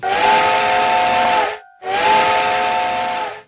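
A loud steam train whistle blows two long, steady blasts separated by a brief gap, with a hissing edge to the tone.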